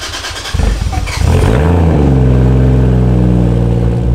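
Toyota Chaser with a 1JZ engine, extremely loud, heard from inside while driving: the engine catches and fires up, then settles into a steady, throaty, booming drone that fills the cabin.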